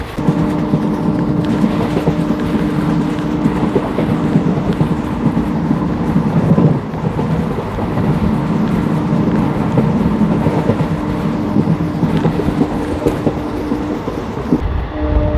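Passenger train 14526 rolling into Patiala railway station on the Shri Ganganagar to Ambala route, heard from aboard as a loud continuous rumble with steady clickety-clack over the rail joints and a sustained horn tone, no talk.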